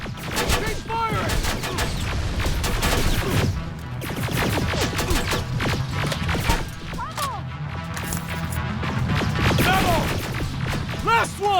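Heavy combat gunfire in the Terminator: Resistance video game, dense bursts of shots and impacts with shouted voices mixed in throughout.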